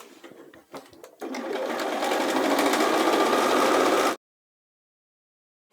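A sewing machine runs steadily for about three seconds, stitching a seam on inside-out pants fabric, preceded by a few light clicks and ending abruptly in silence.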